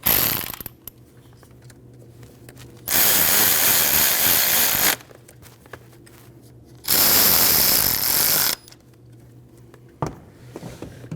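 Ignition coil bolts being tightened on a 2013-2019 Ford Escape 1.5L four-cylinder, two loud sustained bursts of a power tool whirring about two seconds each, separated by quieter rattling and handling noise.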